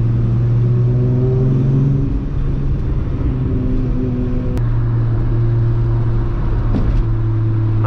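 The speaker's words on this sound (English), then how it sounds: "Driving with this many cars through like small towns, the sounds are really good" A convoy of cars, including an F80 M3 and a Skyline, drives through small towns with a loud, steady engine drone heard from inside a car, its pitch shifting as revs change, no voices.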